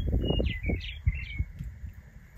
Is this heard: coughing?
no